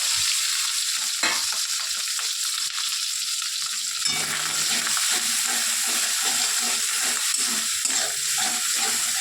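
Fish roe frying and being stirred in a pan with potato and pointed gourd, a steady loud sizzle with scraping stir strokes throughout, no talking.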